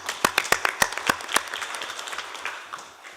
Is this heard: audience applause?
yes